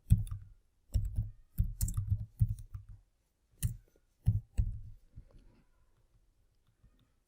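Bursts of keystrokes on a computer keyboard, clustered in quick runs with short pauses, then thinning out to a few isolated faint clicks near the end, close and clear with no talking.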